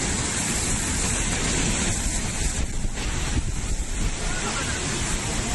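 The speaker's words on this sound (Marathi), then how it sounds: "किती भयंकर पद्धतीनं हा प्रवाह पाण्याचा या ठिकाणी आहे" Floodwater surging through a breach in the Nira canal during heavy rain near Baramati, a steady, loud broadband roar of rushing water with wind buffeting the microphone throughout.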